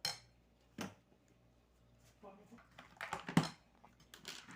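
Ice goes into a custard milk drink: a few clinks and rattles of cubes against a glass or bowl, close and fairly faint, with someone talking quietly around them.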